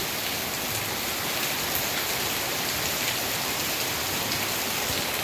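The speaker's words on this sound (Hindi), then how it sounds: "बाहर खूब सुंदर मौसम हुआ है, बारिश हो रही है।" Steady rain falling outdoors, a dense even hiss of drops on surfaces with no pauses, continuous and fairly close, with no voices.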